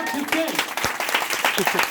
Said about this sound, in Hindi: तालियां एक बार सभी लोग जोर से